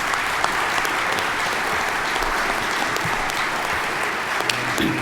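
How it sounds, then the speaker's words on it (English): An audience at the Ohio Farm Bureau Discussion Meet contest applauding its competitors, with a full, even patter of many hands that holds steady across the whole stretch. "let's give a round of applause to our competitors."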